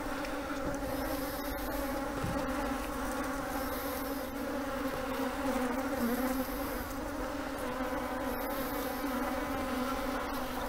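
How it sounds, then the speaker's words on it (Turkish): Honeybees buzz steadily around an open hive during an apiary inspection, a dense continuous droning hum with individual insects flitting past close by, no voices. "Şimdi ikinci kovanımızın durumuna bakalım."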